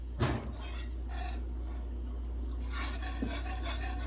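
Sticky cream cheese worked with a fork in a dish, heard as a brief clinking stir at the start followed by soft, steady scraping and a faint tap near the end over a low background hum.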